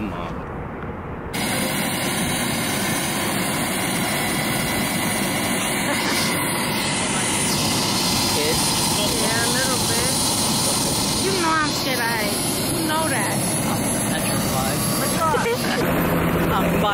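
A loud, steady helicopter engine roar runs throughout, with rotor noise and wind buffeting close by; voices occasionally break through underneath.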